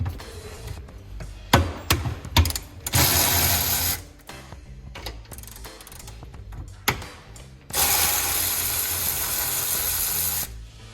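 A ratchet works loose the 14 mm bolts holding the seats of a Toyota Prius hybrid. It makes close, rapid clicking in short bursts, with two longer stretches of steady ratcheting and no talking.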